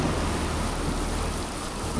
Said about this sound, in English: the rain only got heavier